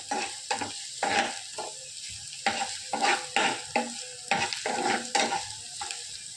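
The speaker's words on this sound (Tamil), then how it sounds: "இப்போ பச்சை மிளகாய் நல்லா வதங்கிருச்சு." Green chillies sauté in a pan, stirred with a utensil: repeated scraping strokes over a steady, close sizzle, with no voices.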